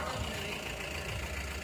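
A stopped vehicle's engine idles steadily at roadside, a low continuous rumble heard at moderate distance with no other clear sounds.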